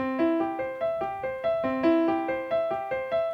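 Bach played on piano without the sustain pedal, notes in a steady, detached pattern, each decaying quickly without ringing over into the next, clear and close.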